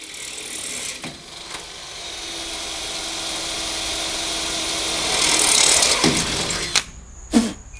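A drill bores holes in square steel tubing on a utility trailer, starting with a smaller bit. A steady whirring grind swells louder midway, then cuts off, followed by a few sharp mechanical clicks.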